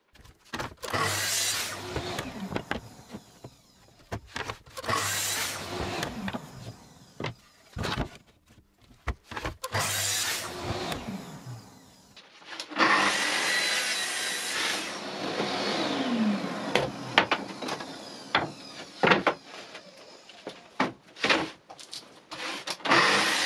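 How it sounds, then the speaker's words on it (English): Saw cutting wood shelf parts from Ikea shelves against a fence stop, several short bursts of cutting in the first half followed by a longer, sustained run of sawing noise. "I use that mark to set the stop on the fence and make the cut."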